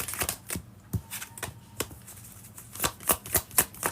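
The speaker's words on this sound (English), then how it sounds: "But the way that you shuffle does matter" Tarot cards are shuffled by hand in quick repeated riffles and flicks, sharp close card snaps coming in an uneven rhythm that speeds up toward the end, with no voice.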